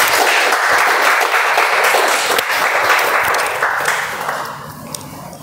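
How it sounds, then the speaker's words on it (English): Audience applause for a speaker at a Toastmasters meeting, a dense sustained clapping that holds steady and then thins toward the end. "Can we have a round of applause for speaker number 2"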